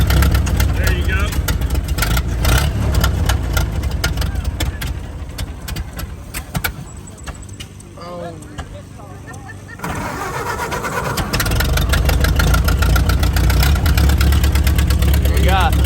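A hit and miss engine powering a truck chugs loudly with a rapid, uneven rhythm, fades briefly to a lower idle mid-way, then picks back up to full running; people talk faintly underneath.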